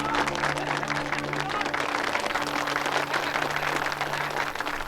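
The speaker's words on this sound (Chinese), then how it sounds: "弟兄们，鼓掌啊！" A group of men applauds together in a scene from a Chinese war drama set at a bandit mountain stronghold, with steady, dense clapping that continues unbroken for the whole stretch and a murmur of crowd voices underneath.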